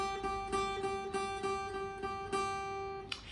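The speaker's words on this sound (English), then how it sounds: "I'm gonna stroke the bottom string." Low bottom string of a guitar picked in a steady series of even notes, each ringing clearly with bright overtones, played alone and close up.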